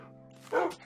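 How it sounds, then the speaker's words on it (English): A Minecraft dog yelps in pain in a video game, one short, faint yip rising over a quiet background hum. "I thought I heard a dog getting hurt."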